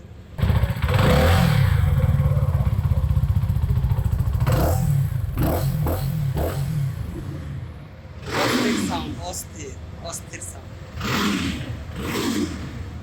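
A CF Moto NK 250 SR, a 250 cc motorcycle, starts up and revs, its engine note loud and near before settling into a rougher idle with further blips of throttle, while someone talks over it.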